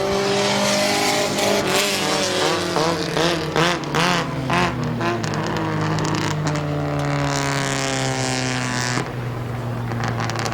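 Race cars in a heat race at Midvale Speedway, several engines roaring loudly and continuously nearby, with rising and falling revs as cars pass and accelerate, and an announcer's voice faintly under the noise.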